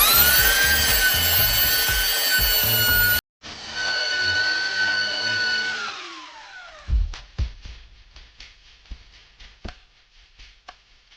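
Hand sanding of a front spoiler for a BMW Z4, heard as a steady loud rubbing scrape for several seconds, then a series of separate sharp scratchy strokes and taps that trail off.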